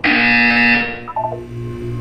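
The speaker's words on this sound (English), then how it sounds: "When you hear the buzzer, look down at the floor." Loud electronic buzzer from the video game Portal 2, a steady harsh tone holding for under a second before breaking into short stuttering beeps over a low background hum.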